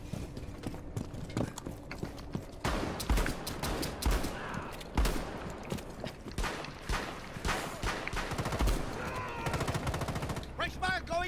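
Gunfire from a shotgun in the tactical shooter game Rainbow Six Siege, a series of loud, sharp blasts scattered among game noise and footsteps, with people talking over the action.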